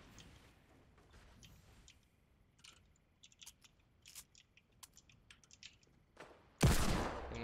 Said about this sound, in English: I'm just shooting across map.